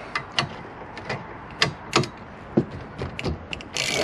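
A ratchet winding out the 7mm hex slide bolts on a rear brake caliper of a Mini One, Cooper or Cooper S, with a series of sharp close clicking bursts spaced irregularly, then a quicker run of clicks.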